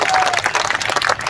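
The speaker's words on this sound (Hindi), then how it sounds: "ताली बजाकर बताओ कि आप सुनने के मूड में क्या कहना?" Audience applause at a mushaira, a poetry gathering, comes as a brief, dense burst of clapping from the crowd, lasting about a second with uneven loudness.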